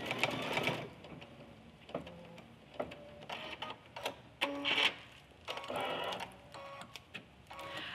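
An embroidery machine stitches four small placement marks for an in-the-hoop bear lovey, heard as short bursts of rapid needle clatter separated by brief pauses, close and fairly quiet.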